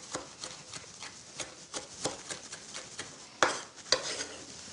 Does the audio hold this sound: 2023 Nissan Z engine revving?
no